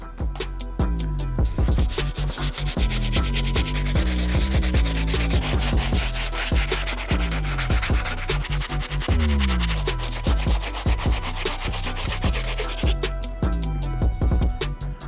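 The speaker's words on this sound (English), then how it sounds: "use our stiff bristle brush to take care of these outsoles" Stiff bristle brush scrubbing the outsoles of Air Jordan Chicago 2 sneakers, quick back-and-forth rasping strokes repeated in a rapid rhythm, close and loud, with brief pauses near the start and end.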